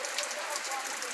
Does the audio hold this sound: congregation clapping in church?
no